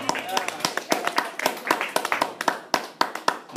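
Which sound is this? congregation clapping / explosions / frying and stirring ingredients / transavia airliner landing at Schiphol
congregation clapping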